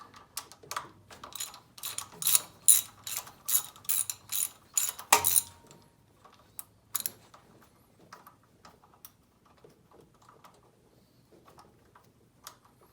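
A ratchet wrench removes two bolts from the engine of a Land Rover Series 2A 2.25 diesel, a close, rapid series of clicking pawl strokes for about five seconds, then scattered quieter clicks and handling noises.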